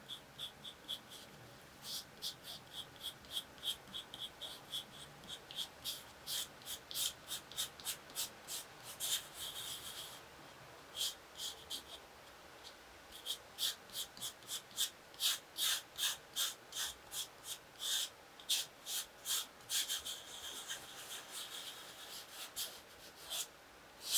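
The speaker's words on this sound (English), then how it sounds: "time for a real finger to put the little dust particles back into the grain of the paper." A fingertip rubs pastel pencil dust into the grain of paper while drawing a wild boar, a quiet scratchy rubbing repeated in quick rhythmic strokes, heard in bursts with short pauses, close and alone.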